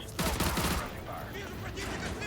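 Gun firing in Call of Duty: Modern Warfare 2 Remastered, a loud rapid burst up front that fades into quieter game noise, with a voice speaking in the background.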